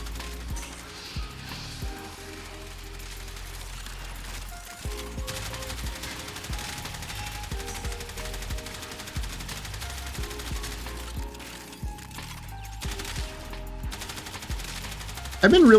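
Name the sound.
Rattleguts kitgun firing in video game Warframe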